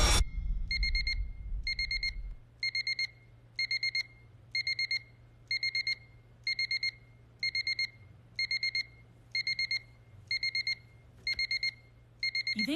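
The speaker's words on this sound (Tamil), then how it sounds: "பாரு அலாரம் அடிச்சுக்கிட்டே இருக்கு" An alarm clock rings in steady repeated bursts of bright electronic beeping, about a dozen short trills evenly spaced, loud and close, following a brief rustle at the start.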